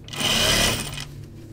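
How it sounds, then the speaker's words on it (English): A sewing machine stitches a quarter-inch seam joining two fabric pockets, a short buzzing run of rapid needle strokes that rises quickly and then tapers off. "And I'm going to sew just on this side of that seam right there."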